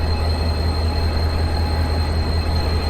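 A passenger train locomotive at Pacific Central Station rumbles steadily and loudly nearby, a constant low drone with a high whine, with no talk over it.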